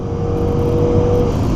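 Cars accelerate hard off the start line in a racing video game, with an SRT8 among them. Engine roar and whir swell continuously through the short burst, with no talking.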